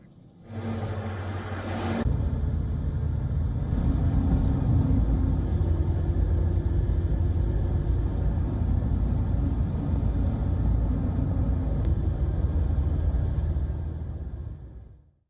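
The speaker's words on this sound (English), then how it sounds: "Thailand deployed convoys of military vehicles towards the front line." Convoy of military vehicles driving toward a border front line, a steady low engine rumble with heavy road noise that holds loud and constant for most of the stretch before fading out at the end.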